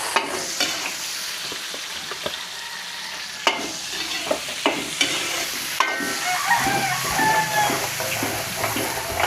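Chopped onions sauté in a hot pan for a Filipino dish, giving a steady crackling sizzle broken by sharp scrapes and taps of a utensil stirring, close and fairly loud with no talking.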